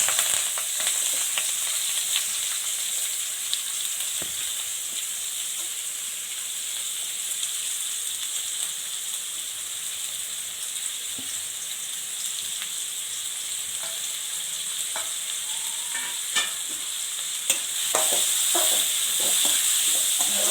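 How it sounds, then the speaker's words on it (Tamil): Onion and curry leaves frying in hot oil while pasta is prepared, giving a steady, close sizzle and hiss throughout with scattered crackles and pops that sharpen near the end. "ஆயில் சூடாகிடுச்சு, ஆனியன் போட்டுக்கலாம்."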